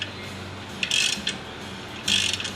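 A hand tool cranks on a suspension part of a BMW E39 540i during a suspension overhaul, giving two short bursts of close ratcheting clicks separated by a pause.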